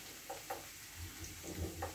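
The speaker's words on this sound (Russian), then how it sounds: "сейчас обжарю лучок" Onion frying in a pan, a quiet steady sizzle with a few soft stirring scrapes and clinks of a utensil against the pan.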